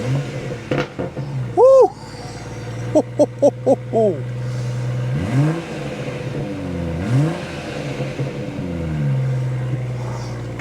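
A BMW M240i with a GPF-deleted exhaust, held on the brake and revved in rapid stabs before launching, then pulling hard with rising and falling engine tone, close and loud, with a brief excited shout.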